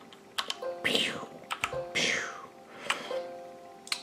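Typing on a Chassepot C1000 gaming keyboard with its built-in sound effects switched on, giving irregular clicky keystrokes mixed with bright synthetic whooshing and chiming effects, close and moderately loud.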